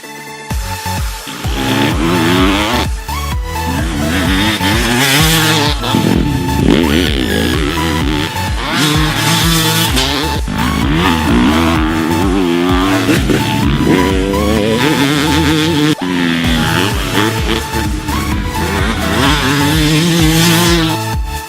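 Yamaha YZ250 two-stroke and YZ250F four-stroke motocross bikes rev loudly and continuously on a track, with rising and falling engine pitch as the throttle is worked, close and without pause.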